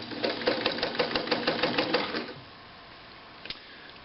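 Morse DeLuxe sewing machine stitching a zigzag, a rapid rattling mechanical chatter of needle strokes for about two seconds, close and clear, then stopping, followed by quiet and a single small click.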